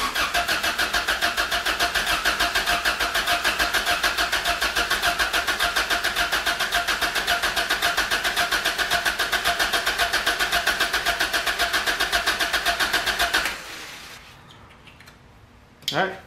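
A boosted F23 Honda Accord with a turbo, its starter cranking the engine in a long, fast, rhythmic chug with the distributor disconnected so oil is pumped through, then stopping, followed by a brief final burst.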